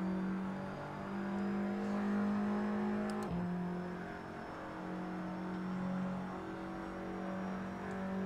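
An Audi TT in the Assetto Corsa racing game on the Nürburgring Sprint gives a sustained engine drone from the cockpit with a brief shift dip partway through before the engine pulls on steadily.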